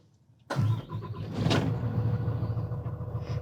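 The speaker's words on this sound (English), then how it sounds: "once that's complete, you can go ahead and start the coach" A motorcoach RV engine cranks and catches after a brief click, then settles into a deep, steady idling rumble nearby.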